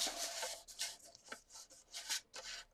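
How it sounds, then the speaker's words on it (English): A paper trimmer blade slides along an envelope in a few soft, close scraping swipes, quiet and brief, with no talking. "pop it in your trimmer, and you're going to cut off a 1/2 inch from each side"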